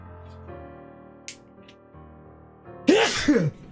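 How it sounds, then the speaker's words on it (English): A single sharp, loud sneeze bursts out near the end, following a few seconds of quiet, steady humming tones in the background. "Apologies, I just sneezed."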